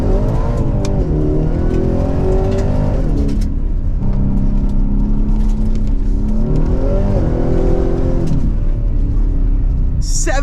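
A 2025 Ford Raptor R pickup truck with a 720-horsepower engine drives off-road, its loud engine climbing and falling through repeated revs and gear changes close by, with a voice talking over it at times.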